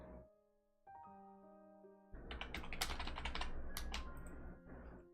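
Rapid typing on a computer keyboard with a loose backspace key, bursts of crisp clicks clustering after a quiet stretch with a steady electronic tone, close and fairly loud, no talking.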